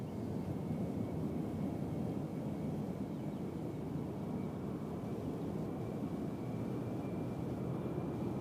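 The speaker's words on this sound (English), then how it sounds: "here comes the next takeoff" A jet airliner taking off at Cincinnati/Northern Kentucky airport gives a steady, loud, broadband roar that holds constant throughout, with a faint high whine above it.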